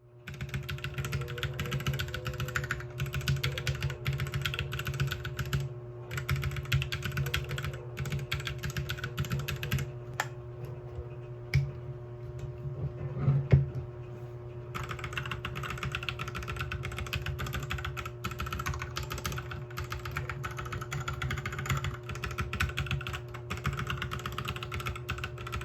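Typing on a modified mechanical keyboard, with steady rapid keystrokes running close and clear throughout, a brief pause near the middle, and no voices.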